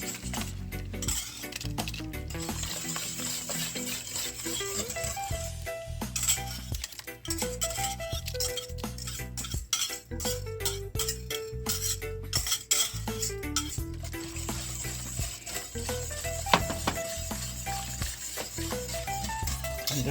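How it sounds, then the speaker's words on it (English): Oats porridge simmering with a cinnamon stick is stirred continuously in a pot, with a spoon scraping and clinking against the metal under steady background noise, close up and with no talking. "you have to keep stirring it so it don't stick in the bottom"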